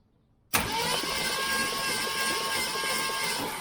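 A 1967 Ford Mustang Fastback with a 390 engine cranks over on the starter, starting abruptly after a brief silence and then holding steady as a loud, continuous, close churning drone.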